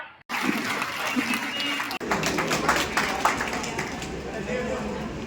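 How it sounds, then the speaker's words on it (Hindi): An audience at a farewell program breaks into sustained, dense clapping that starts abruptly and fills the space, with a voice heard over it. "तो एक बार फारूक भाई के लिए फिर से जोरदार तालियां।"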